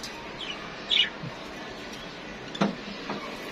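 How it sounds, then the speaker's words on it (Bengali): Scattered bird chirps and short calls ring out against quiet background, a couple of sharper tweets standing out among fainter ones. "খুবই সুন্দর পাখি"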